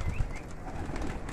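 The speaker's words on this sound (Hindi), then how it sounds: "ये नए कबूतर हैं जो ऊपर से उतर रहे हैं" Soft coos from newly released pigeons murmur close by against a steady background hum, with no voices.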